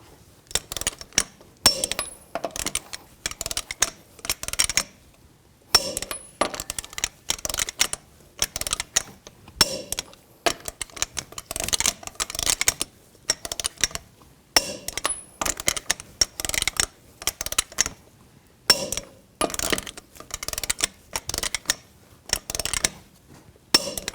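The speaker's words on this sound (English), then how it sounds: "Now I'm going to torque the lug nuts down to 140 foot-pounds in a cross pattern" A torque wrench tightening lug nuts in a cross pattern on a 2002-06 Chevy Avalanche front wheel, sounding as repeated sharp metallic ratcheting clicks in short bursts separated by pauses, close and clear.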